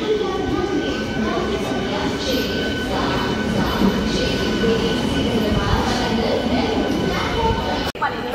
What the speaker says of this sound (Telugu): ఇదిగోండి గాయస్, మన ట్రైన్ అయితే వచ్చేసింది